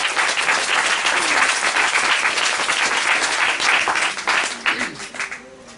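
A church congregation claps loudly and continuously for several seconds, a dense roar of applause that tapers slightly toward the end.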